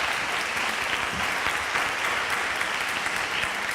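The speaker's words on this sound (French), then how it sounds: "je crois qu'on peut les applaudir." An audience claps steadily at a health-day closing event in Rodez, a dense, even round of applause heard from within the crowd, with no voices over it.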